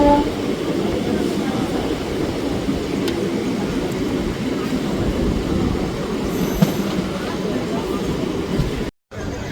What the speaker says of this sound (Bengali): এই মুহূর্তে আমাদের ট্রেন এসে পৌঁছেছিল পূর্ব বর্ধমান জেলার মশাগ্রাম স্টেশনে